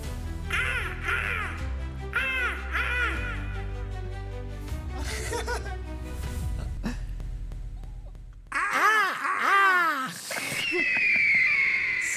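A radio show sting jingle for The Eagle's Nest mixes music with repeated crow caws, loud cawing bursts over the backing, with a short drop before more caws and a closing tone.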